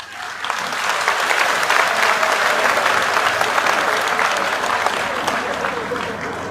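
Sustained applause from a large crowd at a political rally in Haryana, loud and dense from start to finish after a brief quieter opening, with no voices standing out above the clapping.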